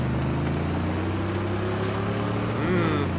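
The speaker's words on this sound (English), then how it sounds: "I'm gonna try my new engine." A vehicle engine drones and revs in the Mad Max video game, a loud continuous mechanical hum with a rising pitch toward the end, steady and close throughout.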